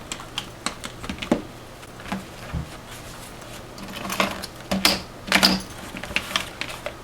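Stitching holes being punched in a leather backpack, heard as rapid, uneven sharp taps and knocks close by, some louder and clustered, over a soft background hiss.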